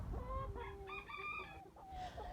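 A young Faverolles cockerel, hatched March 2024, crows in a thin, wavering, unfinished call, close by, with hens clucking softly around it.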